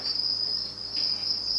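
Live crickets kept as feeder insects for a monitor lizard chirp in a steady, high, continuous trill, close and clear with no voices.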